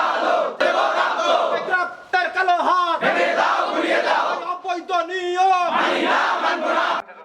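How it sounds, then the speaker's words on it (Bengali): Students at Kurigram Polytechnic chant protest slogans outside the padlocked main gate, a loud continuous crowd of voices rising and falling in rhythmic shouted phrases throughout. "এ সময় শিক্ষার্থীরা বিভিন্ন দাবিতে স্লোগান দিতে থাকেন।"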